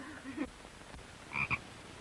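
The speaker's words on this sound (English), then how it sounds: "Oh, a frog!" A frog croaks twice in quick succession, fairly close and moderately loud, with a soft low murmur beforehand and quiet room noise throughout.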